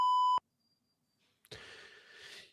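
A single loud, steady censor-style beep tone lasts under half a second on its own, then near silence follows before a burst of broad hissy noise.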